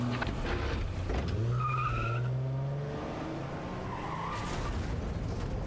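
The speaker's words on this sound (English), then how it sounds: "So he crashes his car and kills himself." Tires skid in the Silent Hill 2 Remake video game as a car loses control and crashes, a loud continuous squealing smear with rising tonal streaks and a dull impact layer underneath, heard alone without talk.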